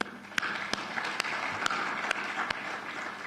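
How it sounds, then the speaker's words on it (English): Audience applause at a heads-of-state summit opening ceremony, a moderate continuous patter of clapping punctuated by several louder, sharp individual claps at irregular intervals, heard from a distance in a large hall. "We'd like to give you a round of applause on that one."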